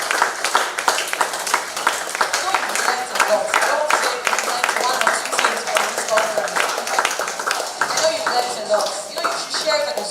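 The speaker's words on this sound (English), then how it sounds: "Please keep clapping for them." Audience applause fills a conference hall at an artificial intelligence event, dense and steady throughout with scattered sharp claps standing out, while a voice speaks over it.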